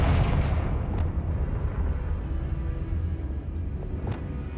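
A Confringo blasting spell detonates in Hogwarts Legacy, a heavy booming explosion at the start that rumbles and fades, followed by a few sharp crackling pops and bursts.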